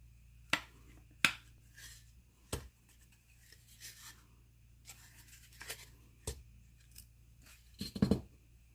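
Miter shears snip through small wooden pieces with sharp, isolated crunching cuts, a few quiet clicks and handling noises between them, close and fairly faint in an otherwise still room.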